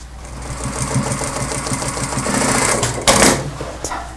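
A sewing machine runs steadily, rattling rhythmically as it stitches topstitching on a children's trench coat, then a brief louder clack near the end.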